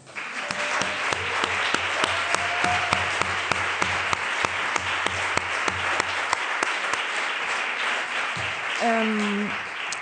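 An audience gives sustained applause for speaker Florencia del Campo at a talk on Clarice Lispector, with even, continuous clapping and a few sharper nearby claps standing out, plus a brief voice near the end.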